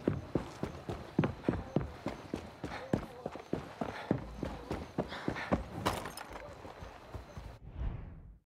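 Horse hooves clip-clop at a steady trotting rhythm in Far Cry 6, close and fairly loud, running continuously before stopping abruptly near the end.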